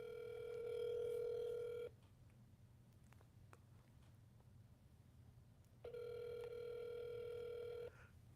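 Telephone ringback tone from an outgoing call to a ministry phone line, two long steady tone bursts separated by a pause of quiet line hiss, fairly faint.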